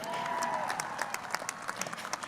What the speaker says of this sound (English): please clap for Tom Brady.